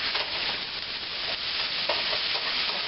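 Continuous scraping and stirring of a sausage and lentil mixture with a little sugar in a pot, a steady close textured swish with a faint sizzle underneath, running for the whole stretch with no talk.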